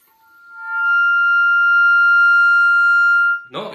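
A single sustained flute note swells in, holds steady and clear for about three seconds, then stops as a brief breathy noise follows, played up close to show breath control and use of the air.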